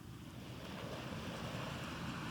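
Ocean surf rolls steadily onto Shrivardhan beach, a long shoreline lined with coconut and casuarina trees, a continuous low wash of waves mixed with wind rumble on the microphone, with no voices.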